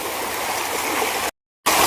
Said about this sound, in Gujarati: પાણી જાય છે જોરદાર મસ્ત છે